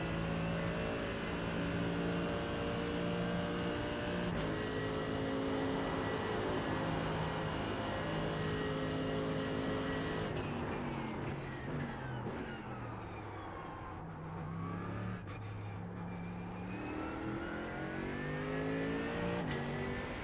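GT3 race car engine in the iRacing simulator, loud and continuous, holding a steady high rev before downshifting hard for a chicane, then climbing back up through the gears on exit.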